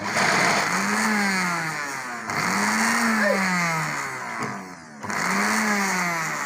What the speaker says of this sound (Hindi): इसको हल्का हल्का हमने ग्राइंडर करना है, तेज नहीं करना।